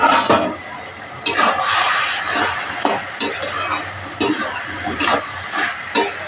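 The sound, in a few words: stirring and frying mixed vegetables with chicken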